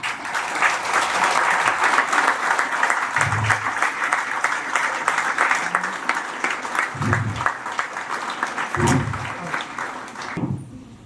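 An audience at a coaching institute's student felicitation event applauds to welcome the chairman: sustained, dense clapping from a crowd that fades toward the end, with occasional voices.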